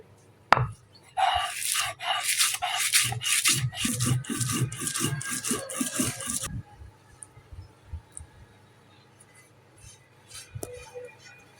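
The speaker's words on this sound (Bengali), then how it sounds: "বন্ধুরা এটা পেয়ার শুটকির বর্তা শুকনো মরিচ আর রসুন আমি বেটে নিব" Dried fish, dry chili and garlic are ground by hand on a stone for a spicy mash, giving a close series of rough, rhythmic rubbing and scraping strokes that stops after about six seconds, with only faint quieter sounds following.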